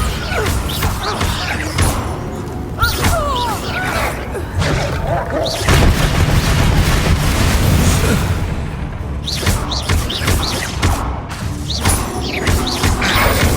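Bombarda blasts and other spell impacts hit during a Hogwarts Legacy fight with poachers. Dense booms, crashes and whooshes come in repeated bursts throughout, along with brief voice fragments.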